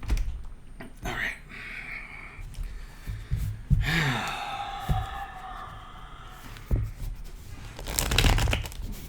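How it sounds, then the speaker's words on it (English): Tarot cards shuffled up close in several rustling, riffling bursts, with soft breaths and sighs between them. "Get some shuffling."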